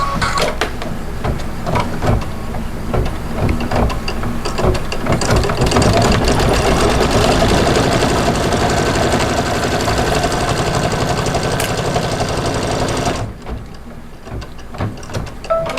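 An embroidery sewing machine stitches appliqué with black thread, running loud and steady with a dense, rapid mechanical chatter for about thirteen seconds before dropping abruptly to a quieter whir.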